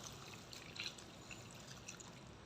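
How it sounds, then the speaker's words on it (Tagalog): Water trickling and pouring into a pot of native chicken adobo cooking with coconut milk, a faint, steady liquid stream with no talking. "Kaya lalagyan ko na siya ng tubig."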